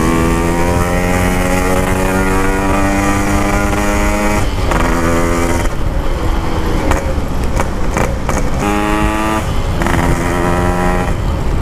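A Yamaha RX-King two-stroke motorcycle on a Jakarta street revs loudly and close, its buzzing engine rising through repeated throttle runs with brief drops between gear changes.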